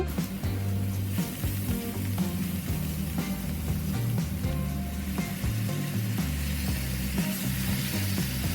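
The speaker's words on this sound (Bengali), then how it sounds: "এখন দিয়ে দিলাম জুকিনি আর আমার শশা কুচি যেটা ছিল সেইগুলা এটাকে একটু ভাজবো" Zucchini and chopped cucumber fry in a pan with a continuous loud sizzle and crackle, steady throughout with no voices.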